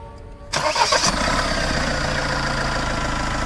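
A 2020 Mahindra Thar four-cylinder diesel cranks briefly, then fires up and settles into a steady, loud, clattering idle nearby.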